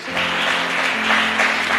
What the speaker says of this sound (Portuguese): E aplaude Jesus mais uma vez